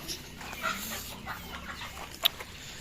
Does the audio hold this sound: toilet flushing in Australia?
no